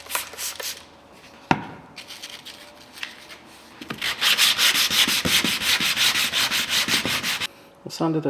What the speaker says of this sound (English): I'll sand it a bit more and then go over it with 1000 grit and then polish.